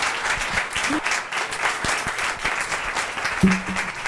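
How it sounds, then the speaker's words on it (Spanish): Applause from an audience at a book presentation, many hands clapping in a steady, moderately loud wash, with a few sharper nearby claps and a brief thump near the end. "Gracias y un aplauso para Mardía y para todos, para todos."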